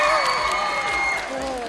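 An audience applauds and cheers for a singer at an outdoor kids' fun day in a theme park, a short burst of steady clapping mixed with a presenter's voice and music.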